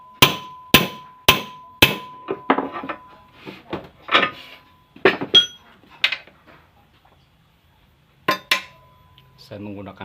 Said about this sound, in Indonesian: Saya menggunakan pahat.